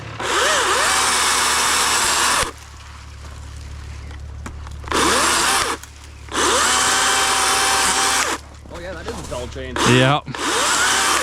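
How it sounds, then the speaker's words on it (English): A chainsaw roars loudly in long bursts, idling down between revs and rising again, with a brief spoken word in one of the quieter gaps. "Chainsaw time, boys!"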